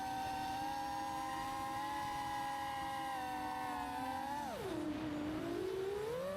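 A homemade drone flying fast on autopilot gives a high, steady motor whine that holds its pitch, then swoops sharply lower before rising again, continuous and close.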